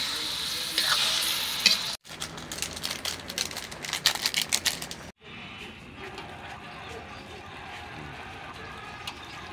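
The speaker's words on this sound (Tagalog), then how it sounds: "Lutuin muna natin yung carrots pati patata" Carrots and potatoes sizzle and get stirred in a pan for chicken curry, with crackling frying, spoon scrapes and brief pauses.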